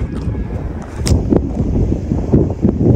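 Steady wind buffets the microphone on a mountainside trail near a large cross, a continuous low rumble with gusty swells and a few brief rustles, fairly loud throughout.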